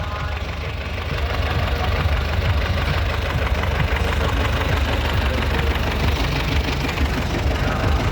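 A tractor engine idles steadily close by, a continuous low rumbling drone with a slightly knocking texture that holds level throughout, with no clear speech over it.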